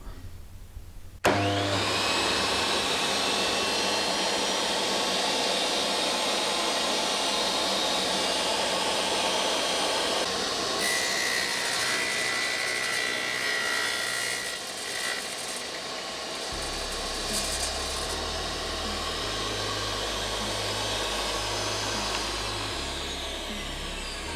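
A DeWalt D24000S wet tile saw starts up and cuts steadily, a loud continuous whirring grind that holds for more than twenty seconds with a slight shift in tone partway through.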